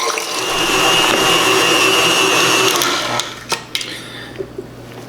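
A stand mixer whips marshmallow mixture at full speed with a loud, steady whir for about three seconds, then stops, leaving a few light clinks and knocks.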